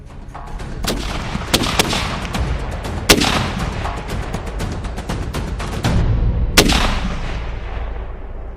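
Heavy artillery fire on a battlefield, a dense sustained roar of booming blasts with several sharp, louder reports standing out over the continuous rumble.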